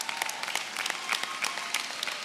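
A graduation commencement audience claps for Master of Science graduates, a dense, close round of applause with rapid overlapping hand claps that holds steady from start to end.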